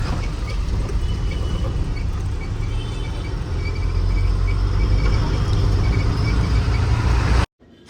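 Heavy vehicles, trucks and cars, pass along a highway near the Hirebagewadi toll, a continuous loud low rumble of engines and tyres that swells midway, then cuts off abruptly at the end, with no speech.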